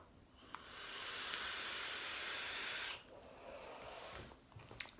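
An e-cigarette exhale of pineapple e-liquid: one steady, breathy hiss lasting a couple of seconds, then a softer, fading rush of air.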